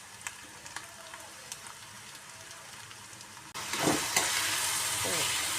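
Onion frying in a pan for chicken chutney: a faint background sizzle with a few light ticks, then a sudden louder, sustained hissing surge partway through as the onions hit the hot oil, without any voices.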